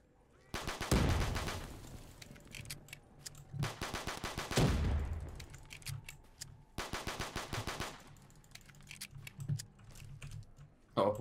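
Automatic gunfire in Call of Duty: Black Ops 3 custom zombies mode rattles in rapid bursts of about two to three seconds, loud and close, separated by brief pauses and trailing into scattered single shots.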